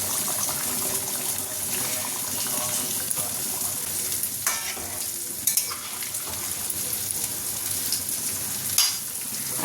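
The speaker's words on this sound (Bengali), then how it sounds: "আমার জন্য অল্প করে একটুখানি উচ্ছে ভাজছি পেঁয়াজ দিয়ে" Bitter gourd and onion fry in a pan at home, giving a continuous soft sizzle with occasional stirring clatters and a few sharper knocks, steady and moderately close throughout.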